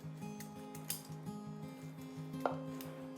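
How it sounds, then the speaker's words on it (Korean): A kitchen knife slices squid into thin strips on a cutting board. The taps are quiet and repeated at a quick, uneven rhythm, with a faint clink near the end and no talking. "오징어를 잘라 보겠습니다"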